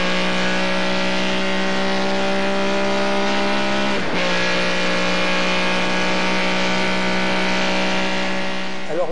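A car driven fast during filming of the movie Rendezvous, its engine droning steadily and loud throughout with a brief shift or dip near the middle and a rising rev at the end, with no talking.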